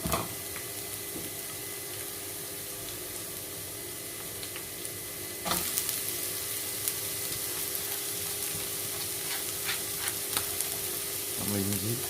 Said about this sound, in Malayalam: എണ്ണ ചൂടായി നമുക്കിനി അതിലേക്ക് മാറ്റി വെച്ചിരിക്കുന്ന സവാള അരിഞ്ഞ് വെച്ചിരിക്കുന്നതും ചെറിയ ഉള്ളി അരിഞ്ഞ് വെച്ചിരിക്കുന്നതും ഇട്ട് കൊടുക്കുക